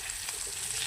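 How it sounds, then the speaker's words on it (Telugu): Fish pieces fry in hot oil, giving a steady, close hiss and sizzle throughout a brief moment, with no voices. "ఈ ముక్కలు కూడా ఫ్రై అయినాయి"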